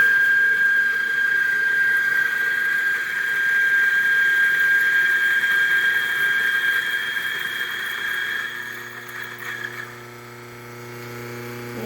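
Electric burr coffee grinder motor running empty with nothing grinding, a loud, buzzy, high-pitched whine held steady for several seconds before the pitch drops and the motor winds down.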